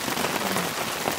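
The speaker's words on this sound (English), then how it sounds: "It's just too much rain." Heavy rain pounding a camping tent during a rainstorm, a dense, continuous hiss of drops drumming close by, steady and unbroken with no talking.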